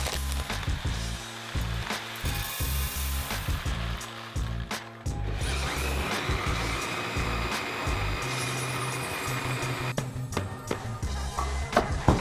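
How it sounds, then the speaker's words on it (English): A grain mill grinds wheat for a homebrewed gose beer, giving a loud, continuous, rough whirring and crunching with uneven pulsing throughout. "So now we're going to grind our wheat."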